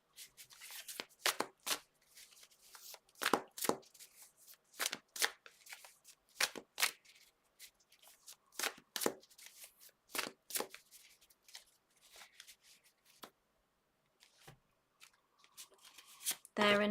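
Tarot cards are shuffled by hand in repeated quick riffling bursts with short pauses between them, close and crisp, with a voice speaking briefly at the end.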